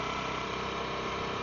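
A motorcycle engine runs at a steady idle-like drone, close and continuous, with no speech and no change in pace.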